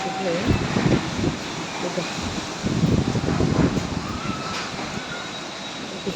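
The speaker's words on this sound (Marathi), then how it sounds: "म्हणजे वारं भयान वार सुटले मला आता खरंच मग घरी जायला पाहिजे बघा वारं" Strong storm wind gusting hard and roaring steadily close to the microphone, with buffeting surges of rumble throughout and no one speaking.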